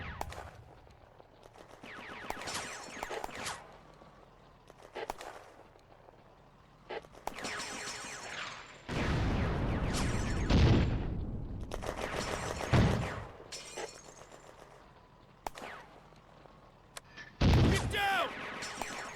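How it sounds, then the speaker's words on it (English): Mortar and gunfire in a war video game set in June 1940 at Villers Bocage: loud booming bursts around the middle and near the end, with scattered shots between and speech over the battle. "The French mortar continues to adjust fire onto the anti-tank gun position."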